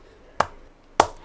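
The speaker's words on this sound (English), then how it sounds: "That was slow clapping." Two sharp, isolated claps spaced slowly apart, crisp and close against a quiet background, in the video game Left 4 Dead 2.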